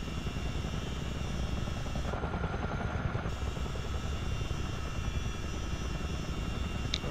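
A CH-47D Chinook twin-rotor helicopter in Microsoft Flight Simulator gives a steady, loud, continuous rotor and engine drone that holds throughout, with no talk over it.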